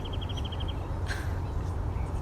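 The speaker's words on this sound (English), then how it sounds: "I can tell that there are a lot of birds around. I can hear them." Birds call in a San Diego canyon: a quick run of repeated chirps, then a single louder call, heard over steady outdoor background noise, at a moderate distance, with no one talking.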